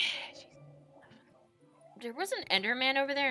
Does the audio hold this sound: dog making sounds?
yes